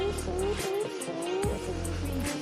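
Aston Martin Valkyrie AMR Pro, a track-only race car with a V12 engine, runs loud and close with a high-pitched engine wail that shifts in pitch as it changes gears, over a continuous low rumble.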